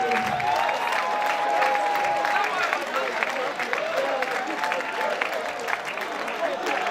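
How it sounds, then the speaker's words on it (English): Crowd applause rings out at a national anti-drug abuse competition, a broad wash of clapping heard alongside a voice talking over it. "Ladies and gentlemen, please give a resounding round of applause, please."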